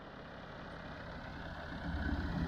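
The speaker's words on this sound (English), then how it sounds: "So I just got the Massey idling there a little bit with the bush hog" Massey Ferguson MF 50 diesel tractor idling with a Hardee bush hog attached, a steady low rumbling engine drone that grows slightly louder toward the end, close by with no talking.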